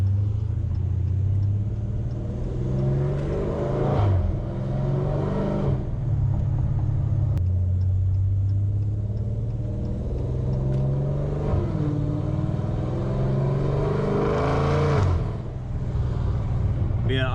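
A Dodge Challenger ScatPack cruises through city streets with a steady low engine rumble that swells into two brief revving pushes, its hum continuous and close throughout.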